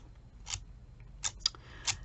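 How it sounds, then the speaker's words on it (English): Several quick, crisp snips of scissors cutting, spaced irregularly, close and fairly quiet against a soft background hum. "these scissors, one of several that were gifted to me by Live to Learn Dana a couple years ago"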